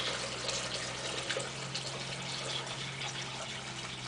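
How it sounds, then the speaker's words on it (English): Warm water at about 85 degrees pours into a bucket holding sugar, a steady, soft gushing splash with a faint low hum beneath it. "So I'm going to pour that into the bucket with the sugar in there."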